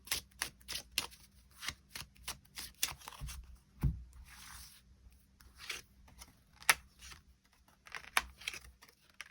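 Tarot cards are shuffled up close in a quiet room, a run of quick, crisp riffling clicks and soft card slaps in an uneven rhythm, with no voices.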